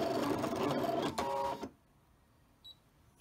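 A Brother ScanNCut machine cuts fabric with a steady mechanical whirring and rattling for about a second and a half, then stops abruptly, leaving near silence broken by one faint short beep.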